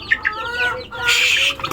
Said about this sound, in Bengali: এটা আমাদের দেশি মুরগির যে বাচ্চাগুলো আছে সেই বাচ্চাগুলাকে দেবো।